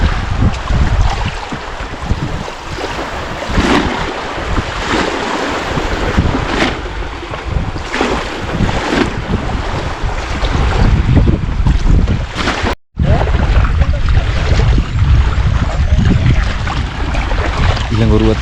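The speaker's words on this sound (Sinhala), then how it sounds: "ඊළඟ ඔරුවත් ආවා." A small fishing canoe coming in to the beach landing at Lunugamvehera, heard through steady wind buffeting the microphone and surf along the shore, with voices faintly mixed in.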